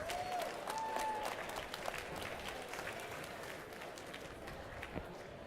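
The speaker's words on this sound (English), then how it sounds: "So let's give a huge round of applause for all of our volunteers." Audience applause for volunteers at the Beach Blitz 2022 robotics event, a steady wash of clapping and crowd noise with faint cheers, continuing evenly throughout.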